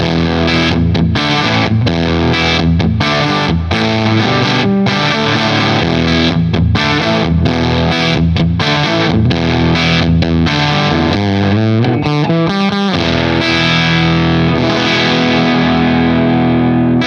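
Electric guitar through a Uraltone Jr kit amp with high preamp gain, heavily distorted and loud, choppy rhythmic chords with sharp stops, then ringing sustained chords toward the end.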